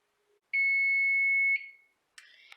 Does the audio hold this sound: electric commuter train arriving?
no